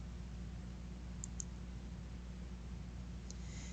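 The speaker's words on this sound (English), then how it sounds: "I then hit the Delete button on my keyboard" Delete key pressed on a computer keyboard while working with files, heard as a few faint, sharp clicks spread over a few seconds against a steady low room hum, with no talking.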